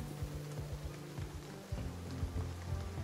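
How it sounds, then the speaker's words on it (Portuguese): Rain patters steadily in the survival video game Project Zomboid, a soft even hiss over a low thudding rhythm of in-game footsteps or motion. "E a chuva torando."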